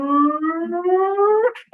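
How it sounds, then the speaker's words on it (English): A single rising siren-like wail, steady and clear, climbing slowly in pitch before cutting off abruptly. "Hear the sirens."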